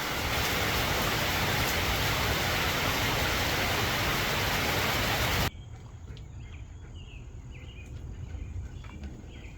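Dense, loud rain roars steadily over a vegetable garden for several seconds, then cuts abruptly to a much quieter scene with faint chirping insects.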